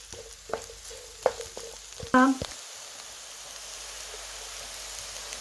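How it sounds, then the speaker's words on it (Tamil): Onions sauté in a pan for a potato patty filling, a soft, faint sizzle with a few scattered clinks and a brief louder scrape, close, under quiet room noise. "பச்சைஸுக்கு கறி வதக்குறோம். வெங்காயம் வதங்கி வரட்டும்."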